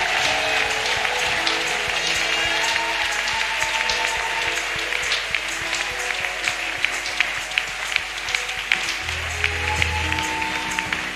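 Congregation at a Congolese proclamation church service applauding and acclaiming the Lord, dense sustained clapping and crowd cheering throughout, with a low musical swell near the end.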